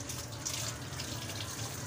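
Steady running water from a tap in a home sink while plant cuttings are washed, a close, continuous splashing stream with no voices over it.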